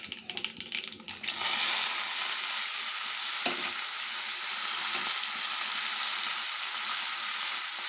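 Cluster beans and curry leaves fry in a hot pan, a quieter start swelling into a loud, steady sizzle with a few faint clicks of stirring.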